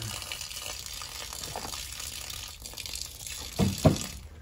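Seeds stirred by hand in a container of water at a plant nursery, a continuous low sloshing and trickling that rises into a couple of louder splashes near the end.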